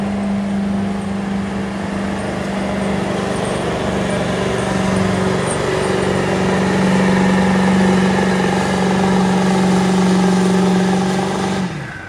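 A 2002 Ford F350 pulling truck at a county fair truck and tractor pull, its engine roaring loud and sustained with a steady droning tone that builds slightly before cutting off near the end.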